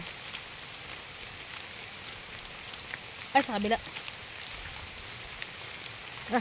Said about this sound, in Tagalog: Lakas ng ulan. Lakas ng ambon.